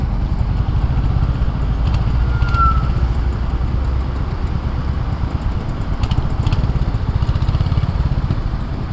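Royal Enfield Hunter 350 motorcycle engine thrumming steadily while riding, a loud continuous low pulsing exhaust note with wind rush and no speech over it.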